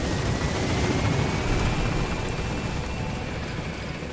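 A video-game helicopter from Metal Gear Solid 5 thunders loudly and steadily at close range, its rotor thrumming in a dense, unbroken roar throughout.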